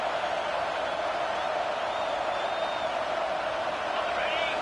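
A steady, dense stadium crowd roars through a football game, a constant broad wash of noise with no distinct cheers or clear voices rising above it.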